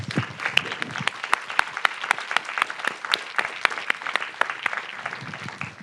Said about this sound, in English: Can we give them applause, please?